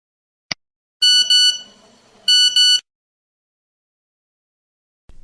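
A phone SMS notification alert: two bursts of bright electronic beeping, each made of quick repeated tones, sounding clean and close against silence.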